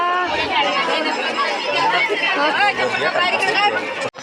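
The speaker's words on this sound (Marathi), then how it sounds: "खूब गर्दी है रे बाबा" A dense crowd of devotees packs a hill temple at Girola near Sakoli during a death-anniversary gathering, a steady close babble of many overlapping voices talking at once.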